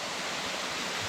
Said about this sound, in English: Waterfall. A pretty little fall.